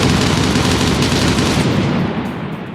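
Rapid automatic gunfire from the video game Stalker Reforged, a loud, dense burst of overlapping shots that holds steady for most of the stretch before easing off slightly at the end.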